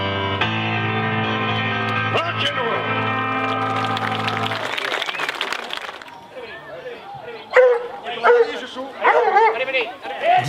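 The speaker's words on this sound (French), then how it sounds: "nous découvrons les équipages de chiens courants. Il s'agit d'anglo-français de grande vénerie." A pack of Anglo-French hounds of a large hunting establishment barks and yelps in the second half, several excited dogs close by in loud irregular bursts, after a stretch of sustained music and crowd noise.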